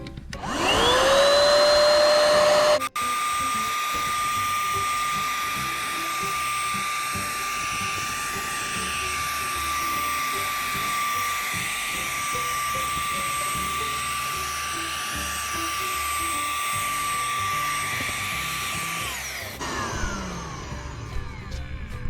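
A Mensela PT-L2 cordless paint sprayer with a 1000 ml container whirs up to speed and runs with a steady, high motor whine for about twenty seconds before cutting off.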